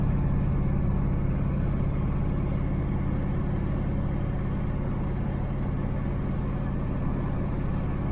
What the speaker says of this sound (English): going down the road in 78 Nova